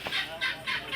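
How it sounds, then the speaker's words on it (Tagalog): Chickens being fed in the late afternoon give three or four quick, close, harsh clucking bursts in a fast, even rhythm, with no talking over them. "papakainin na ni Jolar yung mga alaga, manok, baby"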